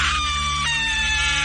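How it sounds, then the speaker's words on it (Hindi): A woman's loud, sustained horror-story scream sound effect: a piercing, steady, high-pitched shriek that holds its pitch throughout and fills the whole moment, close and intense. "तभी अनीशा जोर से चीखी।"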